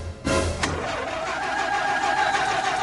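Car engine starting as a sound effect in a radio ad: a quick starter crank catches, then settles into a loud, steady running engine with no talking.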